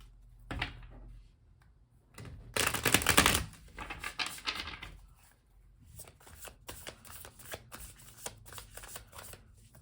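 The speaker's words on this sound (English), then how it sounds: "Gonna do one big shuffle here." Tarot cards being shuffled by hand, a crisp riffle followed by bursts of fluttering and tapping card sounds, close and fairly quiet with short pauses between.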